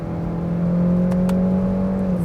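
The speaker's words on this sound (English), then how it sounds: "Let me just demonstrate the 6-speed automatic" Steady engine drone from a 2023 Kia K5 with a 6-speed automatic in sport mode, holding a constant tone through the whole stretch with a couple of faint brief blips, heard from inside the cabin with no talking.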